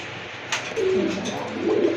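Black Rajgolla pigeons, a kolshi-neck breed, coo in low, warbling phrases close by, with a brief rustle near the start and the cooing swelling toward the end.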